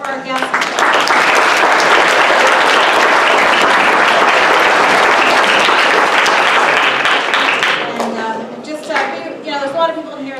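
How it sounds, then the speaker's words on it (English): An audience applauds guests at a school Earth Week author event, a loud sustained roar of clapping that fades near the end as voices and chatter take over. "can we just have a round of applause for our guests?"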